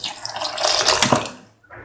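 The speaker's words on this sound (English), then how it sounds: "Pour in 200 ml of water" Water poured into a cooking pot for a mango and plantain stew, a steady splashing rush lasting under two seconds before a brief drop to quiet and a softer trickle at the end.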